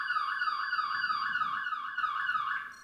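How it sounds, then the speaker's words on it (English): Steady, warbling electronic tones from a phone alarm repeat in a fast regular pattern, moderately loud and alone with no voices, then cut off near the end. "Sorry, that's my phone alarm."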